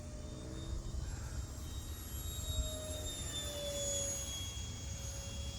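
A Sky Flight Hobby F-22 RC foam jet flies overhead with a steady whooshing electric ducted-fan roar, medium-distant, its pitch shifting slightly as it passes. Faint tonal whines and light wind noise sit underneath, with no speech.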